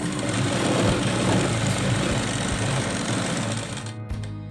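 A sewing machine stitches a plain blouse in one continuous, fast, rattling run, close and steady, slowing and stopping just before the end.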